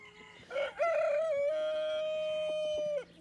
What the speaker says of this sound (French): C'est le coq en chef qui termine sa mue.